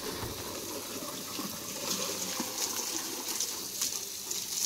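Water pours and swirls as cool water is mixed into hot water, a quiet, steady, hissing gush that lasts throughout with slight surges and no speech.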